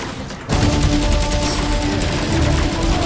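Rapid bursts of gunfire aimed at a core during a boss fight in the video game Agents of Mayhem, a loud dense fusillade starting abruptly after a half-second of quieter background and running steadily with music underneath.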